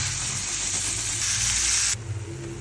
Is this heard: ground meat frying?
yes